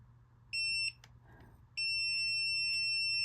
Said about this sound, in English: it wants to beep every single time I press on it